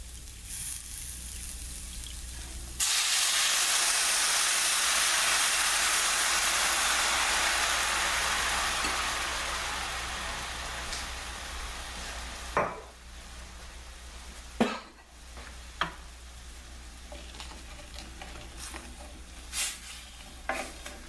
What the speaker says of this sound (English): Now I'm going to add the red wine. This will deglaze it a little bit.